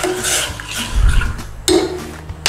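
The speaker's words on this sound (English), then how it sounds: "just give that a little stir in there" Chicken stock with corn and a dissolved stock cube being stirred in a pot, a few close metallic clinks and scrapes of a utensil against the pot with sloshing liquid.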